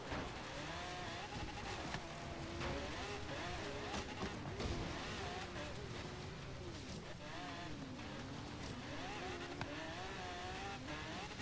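A race car drives hard in Forza Horizon 3, its engine revving and shifting pitch through continuous acceleration with bursts of tire squeal, loud and close, and a voice talking faintly underneath.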